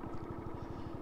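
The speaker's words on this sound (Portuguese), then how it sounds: "Dá uma esquentadinha no motor agora aqui" Vehicle engine idling steadily while warming up on a cold morning in the Bolivian desert, a close, continuous low pulsing throb with a fast regular beat and light mechanical clatter throughout.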